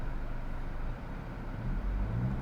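A 2020 Honda Civic Si with a manual gearbox pulling away in first gear as the clutch is let out: a steady low engine drone and road rumble that dips briefly, then swells again as throttle is added.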